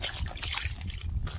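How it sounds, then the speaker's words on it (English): Lake water poured from a tub onto a caught catfish, a close, uneven splashing trickle lasting a moment and splattering onto the fish and an unhooking mat beside a lake. "big old tub full of lake water, which I can chuck onto the fish and onto the mat to keep it nice and wet"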